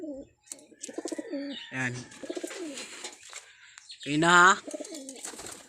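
Racing pigeon cooing softly at close range, a few low throaty coos mixed with someone talking in Filipino nearby and some brief chirps in the background.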